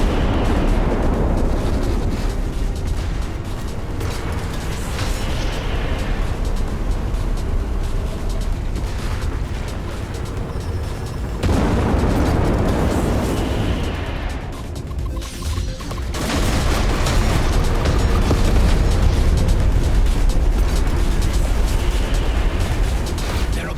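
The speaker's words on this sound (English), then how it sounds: "Attention! Missiles were deployed." Missile explosions and weapon fire in the space shooter Everspace 2, a loud continuous barrage of booming blasts and crashes rolling through the whole stretch, with brief dips before the roar surges again.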